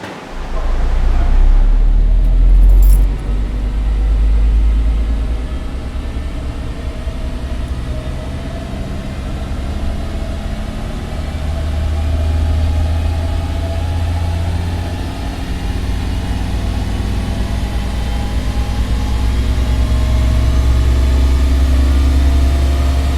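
A Toyota Hiace van engine, worn after 595,000 kilometres, runs on a dynamometer during a power test, a steady loud low drone that surges and settles, with faint talk at the start.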